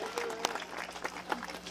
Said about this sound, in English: please do give a round of applause